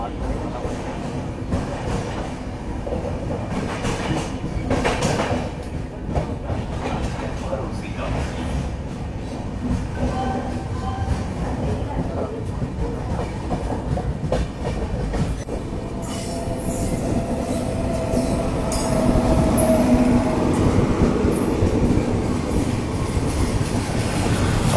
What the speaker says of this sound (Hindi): अभी हम लोग निकल रहे हैं वारंगल रेलवे स्टेशन से